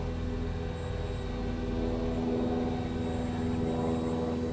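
A manned aircraft passes overhead near an abandoned industrial park, a steady droning rumble holding at even loudness throughout, with faint tonal hums layered in and no voices.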